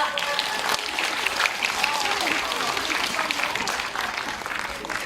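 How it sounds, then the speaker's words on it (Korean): A crowd at a national elementary science and math research competition bursts into dense, continuous applause that stays loud and even throughout, with faint voices mixed in beneath the clapping. "자, 큰 박수 부탁드립니다."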